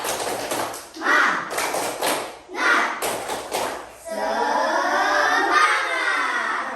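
A class of students standing in a classroom performs a rhythmic spirit clap, with close, loud bursts of clapping in short patterned groups, then a voice speaks and the group chants aloud.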